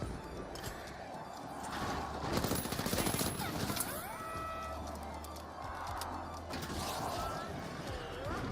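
Video game firefight with a dense, continuous crackle of rapid gunfire and bursts of impacts, mixed with game sound effects and a voice talking over it.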